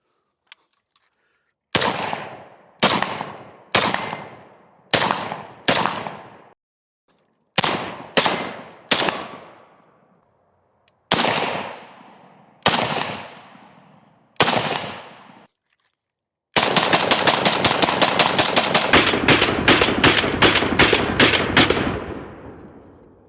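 A Ruger Mini 14 rifle fired outdoors, first as spaced single shots with ringing decays, then a long rapid string of shots in quick succession, loud and close with no talk.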